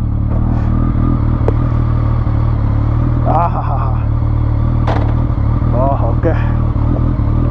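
BMW R1200S motorcycle engine while riding, a steady loud low drone with mechanical clatter throughout, as someone talks briefly over it.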